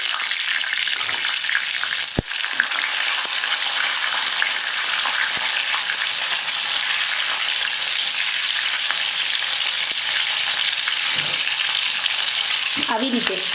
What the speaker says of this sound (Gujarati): સૌથી પહેલાં આપણે છે ને મરચાંને તળી લેવાના છે